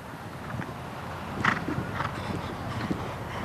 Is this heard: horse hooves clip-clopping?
yes